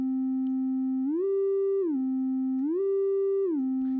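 Synthesizer tone with added rise and fall time, a steady buzzy pitch that glides smoothly up, holds, then glides back down, twice in a row, clean and alone.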